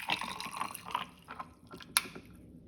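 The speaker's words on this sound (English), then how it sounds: "Now I'm gonna go and pour in my coffee" Coffee poured into a glass over large ice balls, producing a light splashing trickle with scattered drips and a sharp clink of ice near the end, close and fairly quiet.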